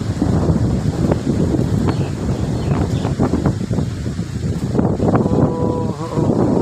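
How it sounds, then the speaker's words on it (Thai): Strong gusts of wind buffet the microphone with low rumbling roars, alongside open-water noise and a few faint higher tones in the background. "ลมแรงจริงๆ แต่ก็ยังออกอยู่ แต่ว่ามีลมมาแรงมาก"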